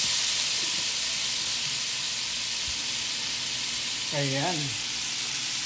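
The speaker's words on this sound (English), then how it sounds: "So ngayon lalagyan natin siya ng garlic." Garlic sizzles as it fries in a pan, a steady, close hiss running throughout, while a voice speaks briefly near the end.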